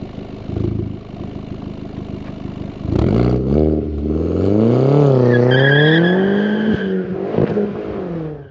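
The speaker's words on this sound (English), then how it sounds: "how can a Polo sound this good with a stock turbo, stock dump valve?" VW Polo 9n3 GTI with a stock turbo and stock dump valve revs hard, then a loud, close rapid turbo flutter chatters as the throttle lifts, with engine note rising and falling and no talk.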